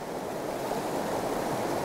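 River white water rushing through a fishing current, a steady broadband roar of churning water with no break or other sound on top.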